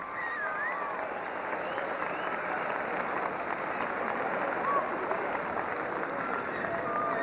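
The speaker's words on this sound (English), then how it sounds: "Let's have a round of applause for everyone." Crowd applause at a girls' state basketball final ceremony, a faint, distant, even patter of clapping with a dull murmur and occasional voices underneath.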